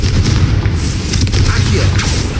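Confringo blasting spell explosions in Hogwarts Legacy, deep booming bursts landing close and loud amid combat noise, with a voice calling out spell names over them.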